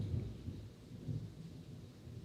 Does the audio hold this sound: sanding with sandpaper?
no